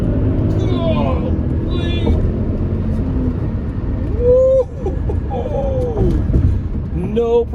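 A 2003 Audi RS6 sedan with a 450 hp twin-turbo V8 accelerating hard from inside the cabin, a steady loud engine roar with rising tones, with people talking and exclaiming over it.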